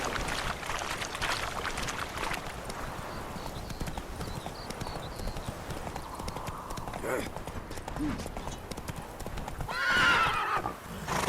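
A horse in the video game The Witcher 3 trots along with rhythmic, moderately loud hoof clip-clops, joined by a whinny near the end, under game music and ambient sound.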